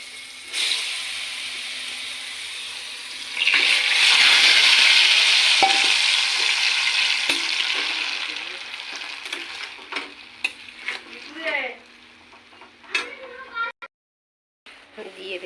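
Tamarind frying in mustard oil, a loud hissing sizzle that swells when the tamarind goes in, then fades into softer crackles and stirring scrapes, with a voice talking over it.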